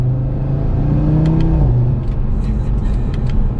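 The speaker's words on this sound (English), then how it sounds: "So we'll give it one more acceleration." A 2021 Audi TT RS with its five-cylinder engine and exhaust, accelerating with a steady, loud rising drone that holds close throughout, the pitch shifting as it climbs.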